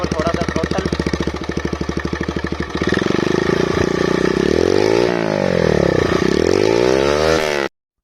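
A motorcycle with a custom exhaust runs close and loud, starting with a rapid, even idle putter, then rising and falling through several throttle revs before cutting off abruptly.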